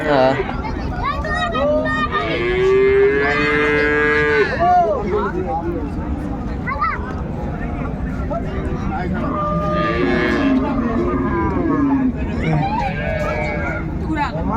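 A dairy cow with her calf at Raniganj cattle market lows in long drawn-out moos amid a hubbub of crowd voices and people talking nearby.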